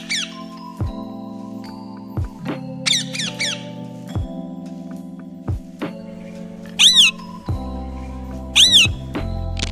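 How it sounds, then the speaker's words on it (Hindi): A parrot gives shrill, squeaky calls in a few short clustered bursts separated by pauses, clear and fairly close against a tonal background. "ये है तोता। तोता को इंग्लिश में पैरट कहते हैं।"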